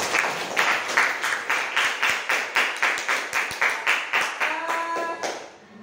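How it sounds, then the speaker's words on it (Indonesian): Classroom students clapping together in a steady rhythmic unison beat, about three claps per second, loud and close, fading out at the end with a brief tonal voice near the finish. "Kita beri tepuk tangan."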